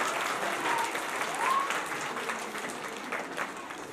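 An audience at a school annual function claps after a performance, a steady, fairly soft wash of applause that holds evenly throughout.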